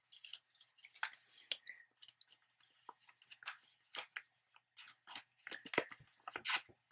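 Origami paper being folded and creased for a tank model, heard as close, crisp rustles and sharp crinkling bursts in an irregular rhythm, with faint quiet talk underneath.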